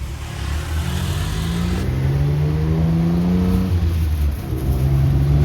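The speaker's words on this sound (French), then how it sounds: "Il fait un petit son moteur, hein?" A tuk-tuk engine in Thailand revs up nearby, its buzzy pitch climbing and holding steady over a rumbling idle, loud and continuous.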